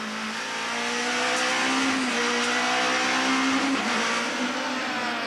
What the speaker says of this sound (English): There's race cam action now from the Voss BP Nissan Primera